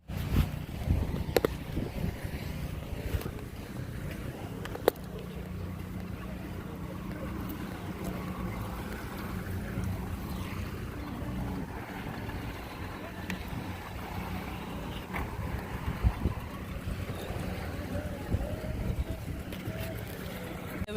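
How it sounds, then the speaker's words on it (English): A motor fishing boat comes in toward a beach, its engine a steady low drone blending with wind buffeting the microphone and breaking waves, while people talk nearby throughout. "they are showing them one boat to come in"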